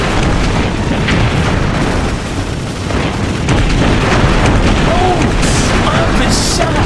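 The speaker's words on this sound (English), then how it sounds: "Explosions!" Explosions in the helicopter video game Heli Heroes: a dense, continuous roar of booming blasts and rumble, loud throughout with a voice mixed in.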